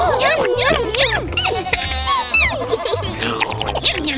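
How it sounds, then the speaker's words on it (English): A cartoon goat in an animated animal story gives several wavering, nasal bleats in quick succession, close and loud, over a steady bouncy background music beat. "It's a goat"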